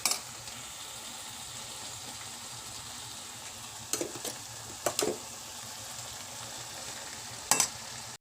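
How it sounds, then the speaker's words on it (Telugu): Chicken curry cooking in a pan with masala paste stirred in, giving a soft continuous sizzle and frying hiss, with a few brief louder scrapes of a spoon against the pan. "చూడండి ఈ చికెన్లో ఇప్పుడు మనం ఈ మసాలాని వేసుకుందాం."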